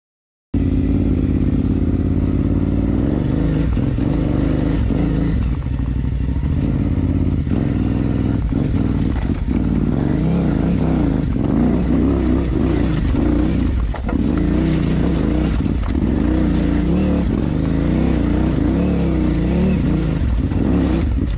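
A KTM 950 motorcycle engine roars steadily throughout a ride, loud and close, with rising and falling revs and a clattering mechanical edge over constant wind noise.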